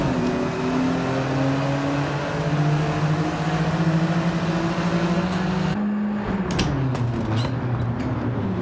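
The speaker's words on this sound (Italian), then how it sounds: "come scoppietta questa Scirocco" A Volkswagen Scirocco fitted with a non-original engine in the racing game Gran Turismo 7 drones at steady revs on a wet track, then lifts off with a scatter of sharp crackles and pops from the exhaust.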